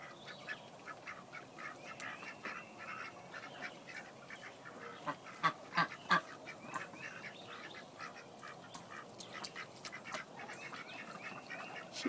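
Ducks in a coop yard quack and honk at a moderate distance, a steady scatter of calls with a brief louder burst of quacks in the middle, over a faint outdoor background.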